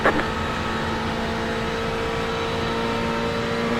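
A race car engine drones steadily at high revs during the Spa 24 Hours, loud and constant, heard from onboard with a slight whine running throughout.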